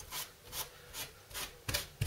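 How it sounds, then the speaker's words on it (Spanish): A cloth rubs excess glue off a segmented wood glue-up in repeated short strokes, about five even swipes close to the ear, followed by a couple of sharper knocks, with no talking. "Y ahora cogeremos un trapito o lo que sea y quitamos el sobrante"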